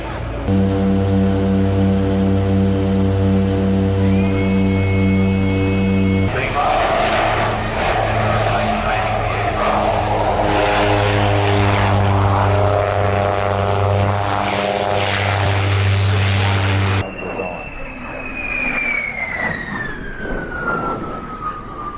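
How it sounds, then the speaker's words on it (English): Propeller aircraft of a two-plane airshow display team, a loud sustained engine drone whose pitch shifts as the planes pass, ending with a falling tone as one moves away. "Two aircraft in the team."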